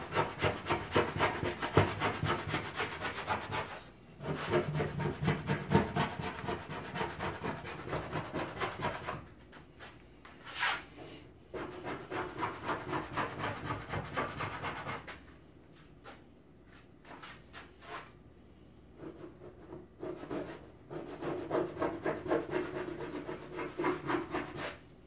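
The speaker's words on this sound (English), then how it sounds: "if you hold the scraper at a more of an angle, you can see how it peels off that extra layer of paint for me." A paint scraper peels paint off a Tetris arcade cabinet, giving sustained close rubbing and scraping strokes on wood that come in bursts separated by short pauses, with no talk.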